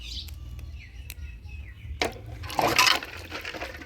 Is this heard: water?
yes